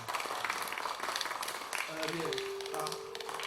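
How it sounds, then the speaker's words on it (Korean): A church congregation claps to welcome a newly announced Friday prayer meeting accompanist, a soft, steady patter of hands with voices talking over it throughout. "우리 이제 큰 박수로 환영해 주시기 바랍니다"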